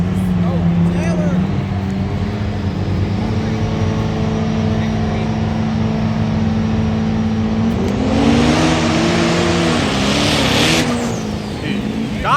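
A turbo diesel pickup with a Cummins engine roars past at a truck sprint event, its loud engine note climbing and surging as it accelerates, with crowd chatter and shouting mixed over the noise.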